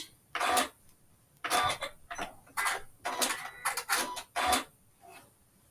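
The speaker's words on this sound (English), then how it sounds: "Just going to do a locking stitch to finish the end." A sewing machine runs a locking stitch on a quilt block in a series of short, close mechanical bursts separated by brief pauses, with no talking.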